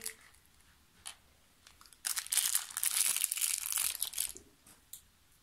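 Plastic packet from an L.O.L. Surprise toy unboxing crinkling loudly for a couple of seconds, a burst of rustling close up, with a few quieter crackles before and after.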